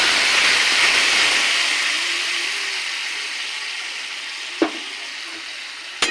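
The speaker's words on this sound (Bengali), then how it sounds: "টমেটোটা গলে গেছে, এবার ডাল ঢেলে দেবো, সেদ্ধ ডাল" Boiled dal poured into a pan of sizzling, softened tomato mixture gives a loud, steady frying hiss that slowly fades, broken near the end by two sharp clicks.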